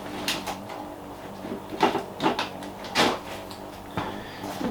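A drawer of electrical supplies in a home bike workshop is pulled open and rummaged through: several clunks, slides and knocks come at irregular intervals over low background hiss.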